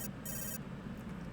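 In the Later Daters video game, a cell phone ringtone chirps in two short bursts over a low ambient hum.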